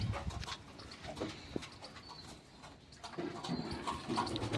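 Pigeons coo softly in a low, murmuring run while feeding on grain scattered into trays, with faint scuffling and intermittent bird sounds at close range and no talking.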